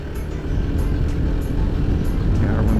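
An Aprilia Scarabeo 500 scooter engine runs steadily on a test ride, a close, continuous low drone with wind rush and faint ticking.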